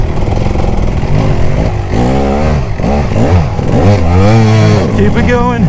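A Kawasaki KX250 two-stroke enduro motorcycle on a woods trail revs up and down over and over, its loud, close engine pitch sweeping and warbling with a raspy crackle.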